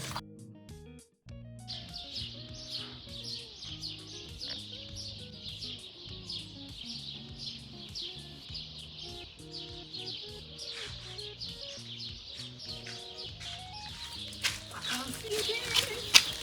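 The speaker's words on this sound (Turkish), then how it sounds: "Kuş seslerini duyuyor musunuz?" Birds chirp and tweet steadily throughout, high bright calls layered over music and voices, continuous and fairly busy.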